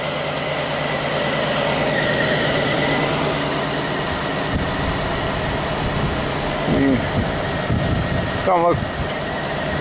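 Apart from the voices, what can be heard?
2000 Pontiac Bonneville engine idling with cylinder 3 misfire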